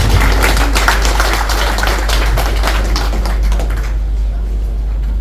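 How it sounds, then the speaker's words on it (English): A crowd at a 65th birthday celebration breaks into sustained applause, many hands clapping in a dense, loud patter that thins and fades toward the end. "give yourself a resounding round of applause for this"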